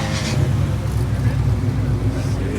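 A Ford Mustang muscle car engine rumbles at a cars-and-coffee meet in Rancho Cucamonga, a steady, loud low drone with traffic noise and people talking over it.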